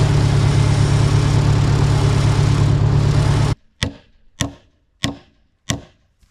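A tractor engine running loud and steady at close range during a barn build, then abruptly cut off, followed by four sharp, separate impact knocks.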